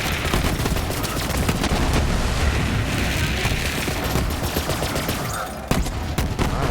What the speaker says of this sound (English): And start firing, and boom.